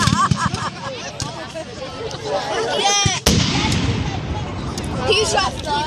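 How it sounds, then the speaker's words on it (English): At a Civil War reenactment field day, a cannon fires one sharp, loud boom with a rolling aftermath, amid scattered gunfire pops and nearby spectators talking. "He just got shot by the cannon."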